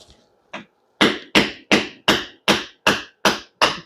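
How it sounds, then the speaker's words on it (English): A hammer taps a metal part out on concrete in a steady run of sharp, ringing taps, about eight in quick succession after two lighter knocks, close and alone. "I can tap it out of there with a hammer"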